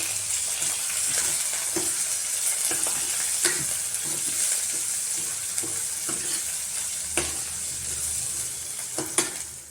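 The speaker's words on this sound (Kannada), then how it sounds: "ಕರಿಬೇವಿನ ಸೊಪ್ಪು ಕೂಡ ಹಾಕಿದ್ದೀನಿ. ಇದು ಸ್ವಲ್ಪ ಫ್ರೈ ಆಗಲಿ." Curry leaves frying in hot oil as a tempering for horse gram sambar: a constant sizzle close by, punctuated by sharp spatters and pops, with no one talking.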